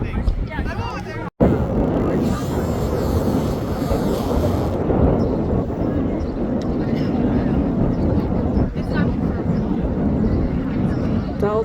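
A small plane lands at Boston airport with a sustained, broad engine roar heard from a moderate distance, steady throughout apart from a brief dropout early on.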